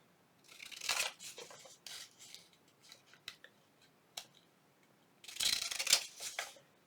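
Scissors snip and trim paper for a junk journal collage, with a few close, crisp bursts of cutting separated by quieter rustling and handling of paper.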